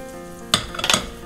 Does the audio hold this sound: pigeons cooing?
no